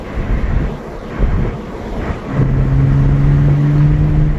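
Supercharged V6 of a B8.5 Audi S5 fitted with an Injen cold air intake, a loud, close, steady engine drone that settles into a sustained rev with a low hum, no talking.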